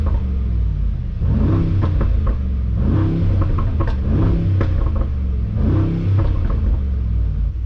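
A 900 hp Brabus XLP900 Rocket revs repeatedly with its exhaust valves open, loud and throaty, rising and falling in pitch with a deep rumbling burble throughout.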